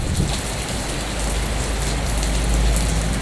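Steady heavy rain pours down outdoors, a dense continuous hiss of drops drumming on surfaces with a low rumbling undertone, loud and unbroken throughout with no voices.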